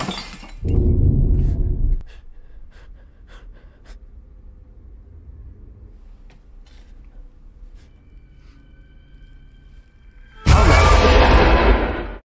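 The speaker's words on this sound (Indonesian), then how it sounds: "Michael tidak sengaja menyegel toples sampai membuatnya pecah." A glass jar falls and shatters, with a heavy, low crashing burst near the start, a long quiet stretch with faint small clinks, then a loud, bright splintering crash at the end.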